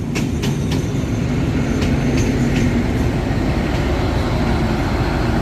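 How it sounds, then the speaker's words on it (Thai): Thai passenger train no. 234 from Bangkok to Surin pulling into a station, a loud steady low rumble with rhythmic wheel clatter and a few faint high squeals throughout. "ขบวน 234 เข้ามาแล้วนะครับกรุงเทพสุรินทร์"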